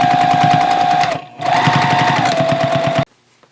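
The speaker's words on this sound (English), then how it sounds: "drop down your needle, and then sew back and forth a couple of times" A sewing machine stitching back and forth on a tote bag handle, running loudly in two steady bursts separated by a brief pause, then stopping abruptly.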